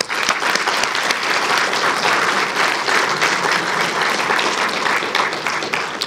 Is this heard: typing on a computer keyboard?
no